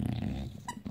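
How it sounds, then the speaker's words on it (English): A bulldog growls at close range in a low, rumbling snarl with snuffling breaths and a brief squeak, short and fairly loud. "You crazy dog, Angel."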